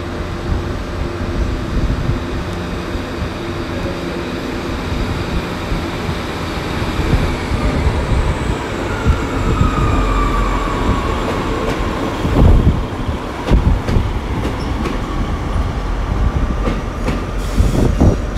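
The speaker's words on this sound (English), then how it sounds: "Got the St James's Park train back to leave." A Class 150 diesel unit, 150246, pulls out of Exeter St David's station bound for St James's Park. Its engine rumbles steadily as the carriages roll past close by, with wheels clattering and a faint squeal.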